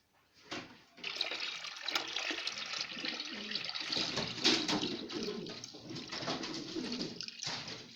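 Water splashes and runs steadily into a pigeon drinker for several seconds after a brief start, close by, with faint pigeon sounds in the background and no talk.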